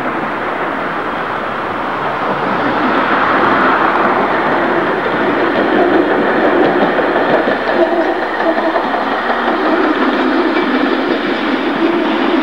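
A Toronto TTC PCC streetcar rumbles along the tracks in the Don Valley, its broad roar building as it passes close by, with a gusty wind noise blended in.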